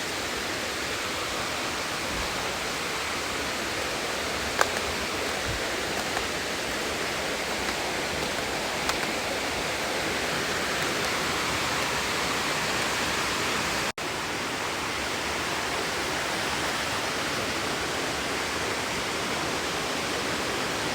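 A forest stream in Awog, Bislig, Surigao del Sur rushes steadily, a dense, even hiss of flowing water close by that keeps going unbroken, with only a couple of faint knocks.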